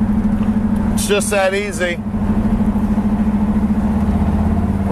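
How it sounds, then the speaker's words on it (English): A 1970 Dodge Super Bee engine idling with its exhaust dumps open, a loud, close, rhythmic burbling lope throughout, while someone speaks briefly over it near the start. "You can open up that exhaust system and make some noise if you want."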